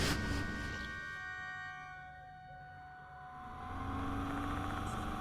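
A bus engine in the video game Death Mark 2 rumbles steadily, easing off in the middle and swelling again as the vehicle pulls away, with a constant musical drone layered over it.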